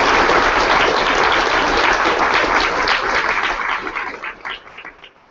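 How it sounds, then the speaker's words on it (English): Applause from a tech-conference audience at a programming-language meetup, steady dense clapping from many hands that carries on for several seconds, then thins out and fades near the end. "another hand of applause for you"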